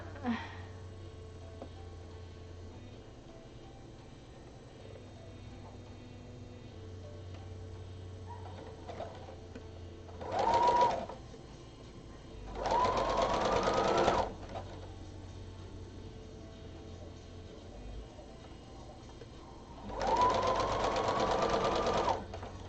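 A sewing machine stitches fabric in three short bursts, a brief run then two longer whirring runs, separated by quiet pauses with faint room noise.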